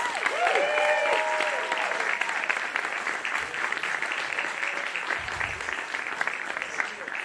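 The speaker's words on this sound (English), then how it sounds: "a round of applause for Michael and Jolynn" Audience applause at the Wordslingers Pundemonium pun game show at the CONvergence 2021 convention, sustained dense clapping filling the room for several seconds, with brief voices over the first couple of seconds.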